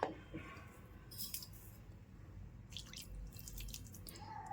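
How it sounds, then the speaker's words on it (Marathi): Quiet, intermittent sprinkles and drips of water landing on leftover flatbread, a few brief splashes close by against a soft background hum. "असं पाणी मारायचं जेणेकरून असं थोडं थोडं ओलं होईल"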